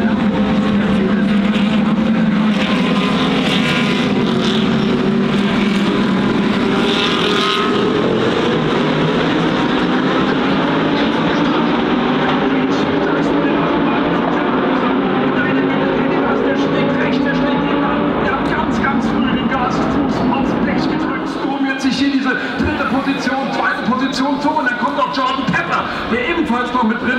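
DTM race cars, a field of Aston Martin, Porsche, Ferrari, BMW and Mercedes machines, restarting after the safety car pulls off in the 2025 finale; a loud, continuous roar of many engines layered together, with a commentator talking throughout.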